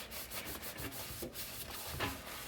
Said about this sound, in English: I'll use the abrasive side a little bit just so I can get that hard to get stains off